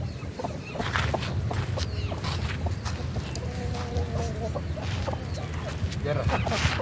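Chickens cluck and squawk in short bursts over a busy background of rustling and distant voices, several birds calling on and off throughout.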